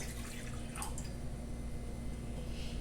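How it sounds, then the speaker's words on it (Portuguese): Warm water poured from a tap or jug into a bowl for bread dough, a faint continuous trickle and splash with a few small drips, quiet and close. "Você vai colocar 250 ml de água morna"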